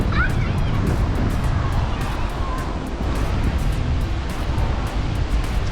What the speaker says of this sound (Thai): จากนี้ ก็คือหาด หาดทรายนะครับ หาดหัวหิน นี่ครับ ติดกับโรงแรมเลย